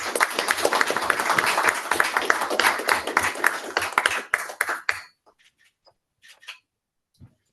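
A township council meeting audience gives a steady burst of hand clapping that holds dense and even for several seconds, then tapers into a few scattered claps before falling quiet.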